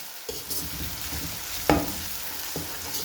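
Ginger garlic paste sizzles and fries in a pan, a soft steady crackle with occasional stirring clatter, fairly quiet and without talk.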